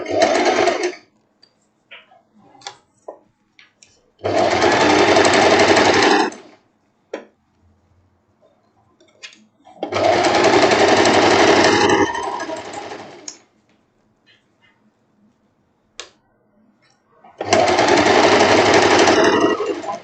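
A sewing machine stitches fabric ribbon onto a halter-neck dress in four steady bursts of fast, even whirring, separated by quiet pauses with small clicks and handling noises.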